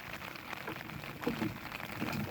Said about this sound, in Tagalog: hindi pa rin huminto yung ulan guys, kanina pa to